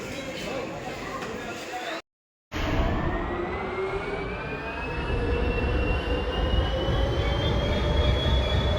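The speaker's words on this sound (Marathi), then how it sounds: "पुन्हा आपली ट्रेन आली" A train pulls into Parbhani railway station on a wet day after rain, with a loud, steady rumble of wheels and a long, high squeal from the rails after a brief cut. Voices are faintly present.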